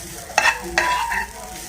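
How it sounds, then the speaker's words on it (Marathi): Ground fresh coconut stirred and roasted in a pan for coconut barfi, with a soft continuous sizzle and two distinct scraping strokes of the spoon, close up, no voices. "मी छान मिक्सरमध्ये दळून घेतलेले, कीस केलेला नाहीये, छान असं परतून घ्यायचा"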